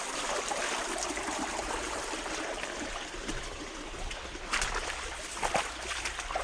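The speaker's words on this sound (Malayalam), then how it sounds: "ചെറിയൊരു തോട് തന്നെയാണ്" A small stream trickles and gurgles steadily beside the walking trail to Kollam Kolli waterfall near Choolattipara in Malappuram, a soft continuous wash of flowing water heard close with no talk.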